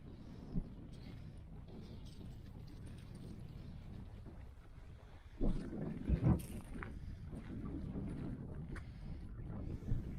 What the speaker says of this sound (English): quite windy on top